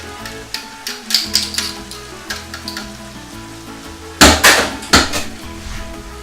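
Garlic tipped into a pan of vegetables sizzles and crackles, with scattered bursts of clattering pan noise and a loud rush of sizzle partway through, all without talk.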